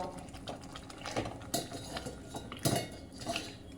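Mushrooms tipped into a pan of cooking masala, giving a few sharp metallic clinks and scrapes of utensil against pan over a soft sizzle, with no talking.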